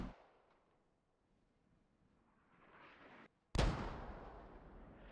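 A mortar round lands in a military video game with a sharp, close blast after a brief dead silence, then a long fading rumble; a quieter earlier impact and rising whoosh precede it.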